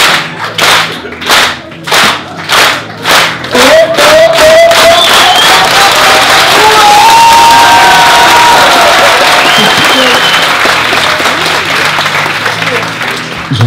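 A convention audience at a Geek Faëries 2015 talk starts a slow, evenly spaced clap of loud single hits that speeds into a dense burst of applause and cheering, with shouts and whistles rising over the roar.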